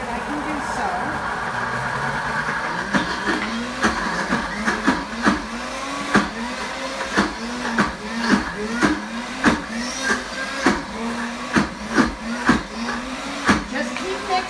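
A Pampered Chef Deluxe Cooker blender grinds a thick batch of hummus, its motor droning steadily with regular rhythmic thumps as the mixture churns and a tamper works it down, while a person talks over it.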